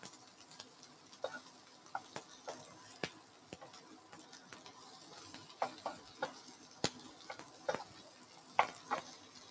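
Green capsicum fries in a pan for shakshuka, with a quiet, steady sizzle broken by soft stirring taps and scrapes at an irregular pace and no one talking.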